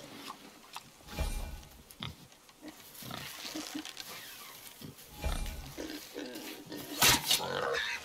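A boar grunts and snorts in the God of War PC game, with rough, irregular grunts and heavy thumps spread over several seconds, mixed with game ambience and sharper bursts near the end.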